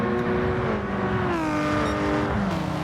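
A Subaru BRZ race car in Gran Turismo 7 sweeps past, its engine note loud and steady and bending downward in pitch as it goes by, with faint tire noise underneath.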